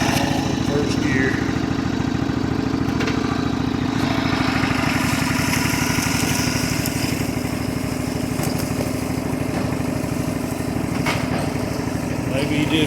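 An off-road motorcycle running in first gear on a wooded evening trail, its engine a loud, continuous, close chugging drone that holds steady throughout.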